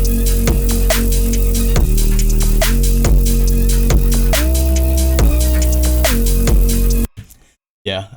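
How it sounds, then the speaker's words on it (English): A loud electronic dance track pounds along with steady heavy kicks, thick bass and shifting synth chords, no singing, then cuts out abruptly near the end; the instrumental drop of a remix. "the entire full drop without the vocals"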